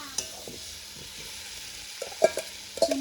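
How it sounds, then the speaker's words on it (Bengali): Cauliflower pieces frying with chili paste on a desi clay stove, giving a soft steady sizzle with scattered stirring scrapes and a few louder clatters near the end. "সুন্দরভাবে ভেজে নিচ্ছি।"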